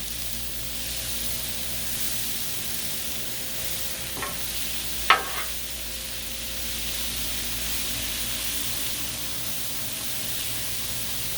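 Tortellini and peas are tossed together on a Blackstone griddle, sizzling steadily and evenly, while two sharp spatula clicks on the flat-top break through around the middle.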